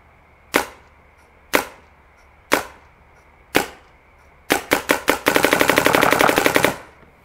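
Paintball marker firing with a barrel rain sleeve: four sharp single shots about a second apart, then a burst of rapid shots into a fast continuous string, loud and close with nothing behind them.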